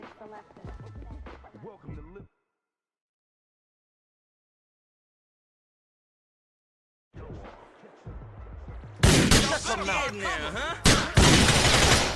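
Gunfire in Grand Theft Auto, a dense loud fusillade of shots near the end following speech and a silent gap.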